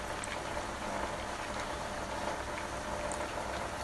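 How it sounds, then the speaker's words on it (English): Water is poured over gourd seeds to soak them, giving a steady, faint, continuous splashing and trickling hiss with no breaks and no voices. "I am pouring water"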